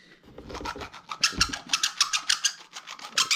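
Pipe ends being deburred by hand before fitting a Sharkbite push connector, a series of short rasping, scraping strokes repeated in a steady rhythm, close and fairly loud with no talking.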